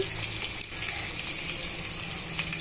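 Onion pieces and green chilies fry with turmeric for lemon rice, giving a steady, dense sizzle that stays loud and even throughout with no talking.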